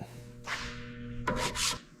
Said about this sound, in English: I'm just wiping this down with solvent now, getting rid of any sanding dust before we apply the primer.